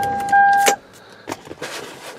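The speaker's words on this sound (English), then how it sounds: "Stick this key in, turn it on. Car fires right up, right?" A Toyota Camry V6 is started with a key: a loud electronic tone, then a sharp click as the key turns, followed by a short burst of cranking and a few faint clicks and rustles.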